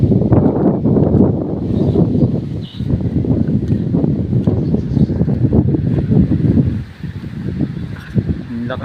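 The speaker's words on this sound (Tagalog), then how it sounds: "Lakas ng hangin." Strong wind blows outdoors in Baguio, a close, rumbling gusty roar across the microphone that holds steady with short lulls, while a person talks over it.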